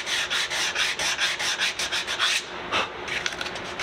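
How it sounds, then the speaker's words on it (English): Sandpaper is rubbed by hand over a Sapele wood round-over in a quick, rhythmic run of close back-and-forth strokes, followed by a pause and a few slower strokes. "just sanding until those marks are gone on the inside."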